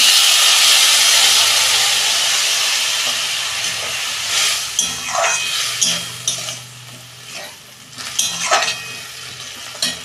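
Water poured into a hot pan of cooking banana stem with fried potato and lentil dumplings, an immediate loud hiss of steam that slowly fades, followed by scattered stirring scrapes and softer sizzling.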